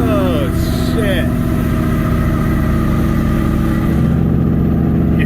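A truck engine with a failing 10 bolt rear end running loudly and revving up, a dense steady drone with rising whines and drivetrain whirring, close and continuous, with a voice talking over it.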